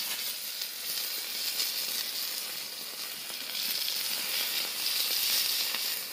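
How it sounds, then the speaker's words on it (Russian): Chunks of meat sizzle and fry in rendered pork fat (salo) on a sadj pan outdoors, a steady, dense crackling hiss that swells slightly toward the end, with no voices. "Сало наше уже отдало нам свой жир. Теперь бросаем мясо."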